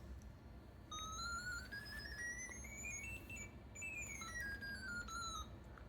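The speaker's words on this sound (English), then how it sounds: "the theremin sounds like this." Sine-wave tone from a homemade theremin controlled by an ultrasonic sensor, gliding steadily up then back down in pitch, faint and alone against a low background hiss.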